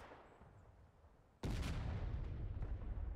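An incoming artillery battery shot in the Civil War game War of Rights: faint ambience, then a sudden loud boom that rolls on as a sustained rumble.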